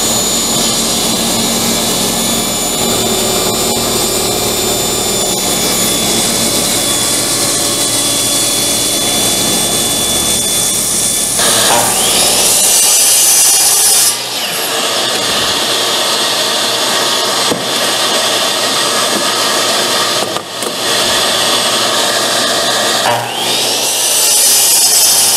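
A power saw rips through a block of firewood guided along a fence, shaping a blank for a hammer handle; a loud, sustained whine cuts off partway, leaving the motor winding down with a few brief knocks.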